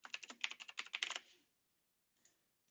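Quick bursts of close computer-keyboard keystrokes, typing a short word in a design app, clatter rapidly for about a second, then stop with one or two isolated taps after a quiet gap.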